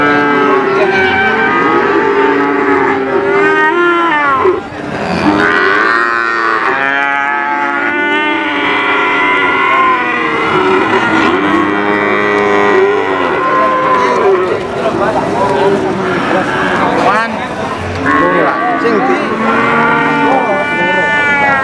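Cattle moo repeatedly amid a busy crowd at a cattle market in Pati, Indonesia, several animals calling over one another with steady murmuring people nearby.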